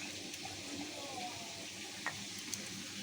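A spoon stirs chicken with ground biryani masala in a pan over a steady sizzle and hiss. There are a few faint scrapes and a soft tap, heard close up with no talk.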